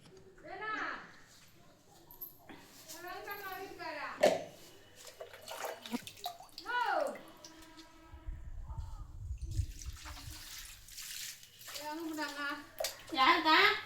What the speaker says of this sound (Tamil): சரி வாங்க நம்ம தண்ணி ஊற்றிடுவோம்.